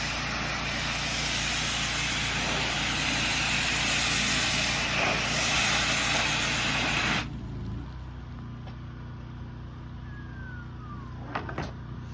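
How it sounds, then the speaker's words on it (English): X-Jet nozzle on a pressure washer spraying rinse water over a house exterior: a loud, steady broadband hiss for several seconds that cuts off abruptly, leaving a low engine hum with a few faint knocks, no talk. "we're X-Jet rinsing"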